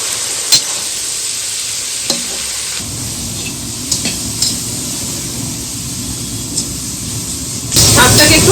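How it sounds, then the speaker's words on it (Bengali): Vegetables fry and sizzle in a pan for a vegetable dal, part of a home-cooked rice ceremony feast, with a steady hiss, a few sharp stirring clicks, and a louder burst of sizzling near the end. "আমি ডালে সবজিগুলো ভেজে নিচ্ছি ভেজ ডাল হবে"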